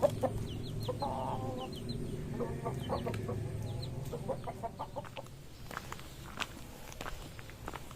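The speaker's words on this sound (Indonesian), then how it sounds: "Ayam." Chickens cluck and squawk around a rural Indonesian village in the late afternoon, with scattered calls near and far over steady footsteps on the ground.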